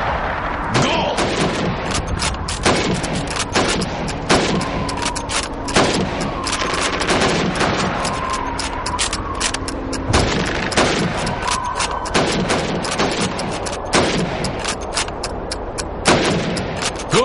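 Rapid rifle shots ring out in Call of Duty 2 as helmet targets are fired on in a timed shooting drill, a dense, loud run of sharp cracks spaced closely over the whole stretch, with faint game voices beneath.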